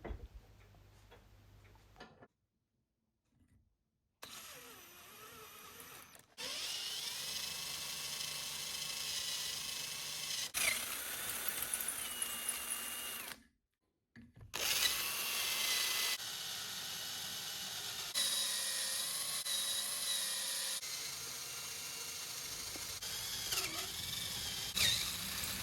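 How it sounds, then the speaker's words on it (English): An electric drill bores through a mudguard mounting bracket clamped in a vise during a Kawasaki S1 550 twin-disc conversion, with a close, steady motor whine in several long bursts separated by brief pauses, and no talking. "now I can put it back in my vise and use my electric drill to drill through"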